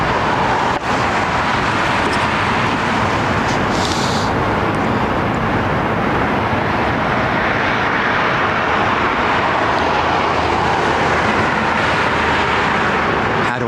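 An Airbus A320neo airliner arriving over Heathrow runway 27R, a loud, broad and steady roar of jet engines that holds close and unbroken for the whole stretch, with no voices over it.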